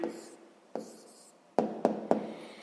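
A pen writes the answer to a sixth-grade maths equation by hand, making soft scratchy strokes on paper, then three sharp taps close together.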